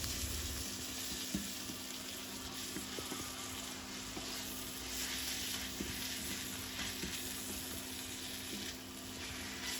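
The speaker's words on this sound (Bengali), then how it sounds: "খুব অল্প তেলে কিভাবে আমি পেঁয়াজগুলো ভেজে নিচ্ছি দেখেন" Onions frying in just a little oil for a curry, a steady close sizzle with occasional light stirring scrapes, no talking.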